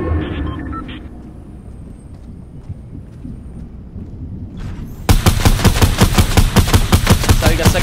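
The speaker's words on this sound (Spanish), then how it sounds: "empezó a disparar también" Rapid automatic gunfire from a Fortnite match erupts after about five seconds of quieter game ambience, a loud, steady stream of shots that carries on to the end.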